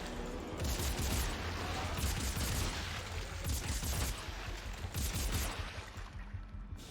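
Dense, sustained gunfire from Dead Space 3 rattles in loud bursts with brief lulls, filling the scene with a continuous barrage.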